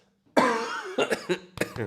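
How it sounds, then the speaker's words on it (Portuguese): A close cough bursts out after a moment of silence, followed by a few smaller coughs and throat-clearing sounds. "Ai, que tosse chata"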